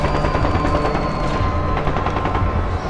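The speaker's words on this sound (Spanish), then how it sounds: "Y entonces empiezan los primeros disparos." Gunshots fired at a crowd during the Tlatelolco massacre, a dense, loud rattle of continuous rapid gunfire over a noisy background.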